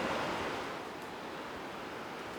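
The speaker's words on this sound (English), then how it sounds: "This trail down to the waterfall is longer than I remember. I can still hear it." A distant waterfall along a trail gives a steady, broad rushing roar that holds evenly throughout, with no voices over it.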